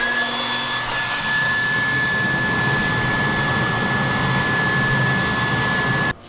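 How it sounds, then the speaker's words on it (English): A hairdryer blows steadily at close range to cure a silkscreened shirt in a bathroom, a loud continuous broadband whoosh with a faint whine, running unbroken for about six seconds before cutting off. "we're going to cure the shirt using our hairdryer"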